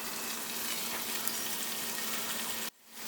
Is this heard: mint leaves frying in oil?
yes